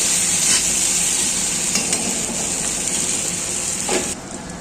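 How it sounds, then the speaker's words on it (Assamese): Fried fish pieces are stirred into a sizzling chilli fish pan, a close, steady sizzle and crackle with soft scraping of the stirring spoon, ending quieter. "এতিয়া আমি ফ্ৰাই মাছখিনি ইয়াত দি দিছোঁ। তাৰপৰা অলপমান লৰাই ফ্ৰাই কৰি থোৱা মাছখিনি দিয়াৰ পিছত অলপমান লৰাই দিব।"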